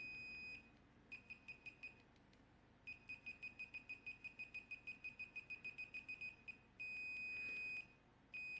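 Wavetek 16XL vintage multimeter on its logic/continuity setting, giving a steady high-pitched beep, then a fast run of about twenty short chirps as the probes tap, then another sustained tone; loud and close, no talking.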